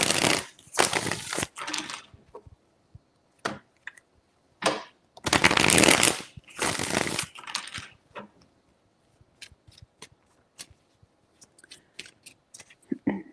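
Tarot cards being shuffled by hand in several short, crisp riffling bursts separated by quiet gaps, close and fairly loud, with light tapping and handling sounds between.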